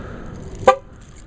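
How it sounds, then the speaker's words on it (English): A single short horn chirp from a car being locked, outdoors in freezing weather, one crisp near toot standing alone over faint background hum. "I'll lock up my car as well"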